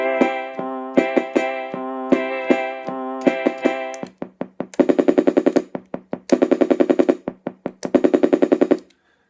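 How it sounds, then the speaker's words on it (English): A Casiotone MT40 keyboard on its reedy accordion voice plays chords over a waltz drum beat, with steady oom-pah-pah percussion ticks underneath. Chorded stabs give way to a bare beat, then fuller repeated chords, loud and close, with no talking. "if you turn the waltz drum beat on, you can get the real accordion thing going"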